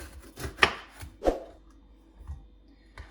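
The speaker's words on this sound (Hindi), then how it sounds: "अब इनकी कटिंग कर लेंगे।" Knife chopping green chili, tomato and green and red bell pepper on a cutting board, a few sharp irregular thuds close by, with quiet pauses between strokes.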